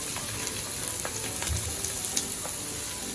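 Marinated chicken fries in a hot pan for a spicy Chettinad-style dry-fried dish, giving a close, even sizzle with light crackles and a few soft stirring knocks.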